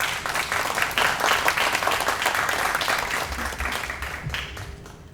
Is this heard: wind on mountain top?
no